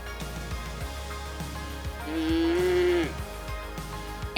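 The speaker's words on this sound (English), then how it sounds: "We get to see a whole bunch of cows" A cow on a mountain hike in Austria's Gesäuse National Park lets out a single long, clear moo over a steady low hum.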